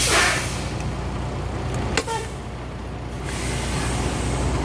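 Compressed air hisses steadily from a leak in a semi truck's air brake system near the fifth wheel, a constant close hiss broken by a sharp click or thump midway.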